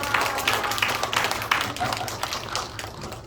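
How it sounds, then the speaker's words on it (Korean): A congregation at a church New Year revival meeting claps in a short, brisk round of applause, the claps closely packed and fairly near, with voices mixed in. "우리 김강성 목사님, 우리 조은정 사모님 같이 박수 한번 보여주세요"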